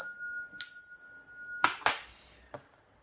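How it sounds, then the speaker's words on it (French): A small bell gives a couple of bright, ringing strikes, followed by a few sharp clinks and a final light tap, close and clear in an otherwise quiet room. "La cloche a sonné."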